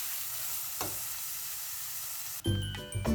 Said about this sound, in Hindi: ये प्याज अदरक लहसुन जो है वो अच्छे से फ्राई हो चुके हैं